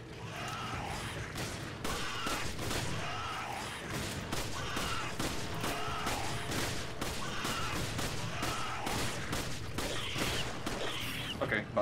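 Repeated gunfire blasts at a bat monster boss in the co-op action game Resident Evil 5. The shots come steadily over constant in-game noise.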